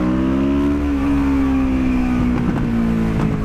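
A Kawasaki Vulcan S motorcycle exhaust drones steadily while riding, a loud continuous engine tone holding pitch and rising slightly near the end, with no talk.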